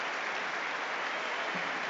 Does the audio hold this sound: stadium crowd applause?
yes